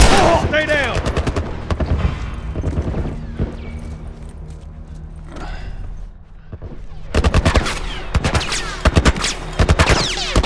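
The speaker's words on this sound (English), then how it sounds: "What are they shooting at us with? Some kind of military." Heavy military gunfire in The Last of Us arrives as loud, rapid automatic bursts, one at the start and a sustained volley near the end, with voices heard between the shots.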